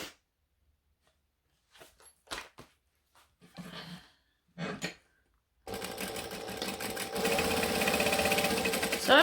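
A sewing machine stitches all the way around a vinyl bag piece for an Elvira-style bag, starting after a few scattered handling rustles and then running steadily and fairly loud for several seconds without any voice.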